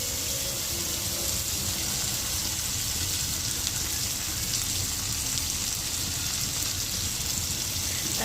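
Potatoes sautéing in a pan with ginger paste, salt, chili, turmeric, coriander and cumin powder give off a steady, even sizzle that hisses without pause from start to finish.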